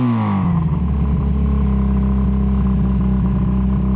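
A Kawasaki KZ440 motorcycle engine holds a loud, steady high rev near the listener, its pitch settling slightly early on, then droning evenly with a rough, clattering exhaust note and no voices.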